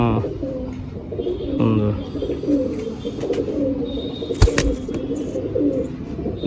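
A Kamagar pigeon of Pakistani bloodline coos softly and repeatedly close by, with people talking over the steady murmur of the loft.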